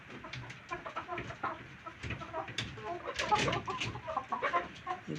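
Tiger breed chickens and roosters on a farm cluck and call in scattered, overlapping bursts, moderately close and fairly quiet, with other bird sounds mixed in.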